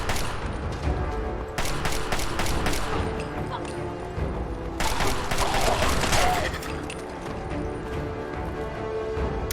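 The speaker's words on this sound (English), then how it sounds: "I have the assault rifle sounds I've replaced with" Modded assault rifle gunfire in Fallout 4, loud rapid bursts of automatic shots in two main clusters over a steady game background, with a bit of talk.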